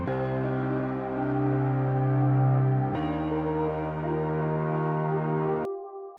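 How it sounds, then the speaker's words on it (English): Pendle synthesizer preset from a Nu Metal Producer pack, part of an alternative rock arrangement: sustained layered chordal tones that shift once midway, then cut off abruptly into a thin lingering note. "And together the synthesizer sound like this."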